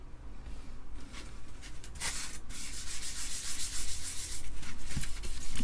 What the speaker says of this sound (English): yeah, you saw me scuff it up.